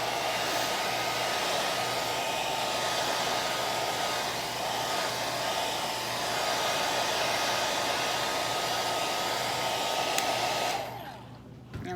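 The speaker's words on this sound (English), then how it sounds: "Okay, I'm going to dry it." A hair dryer blowing on distress oxide ink over glossy photo paper, a loud steady close whooshing hum lasting about eleven seconds before switching off.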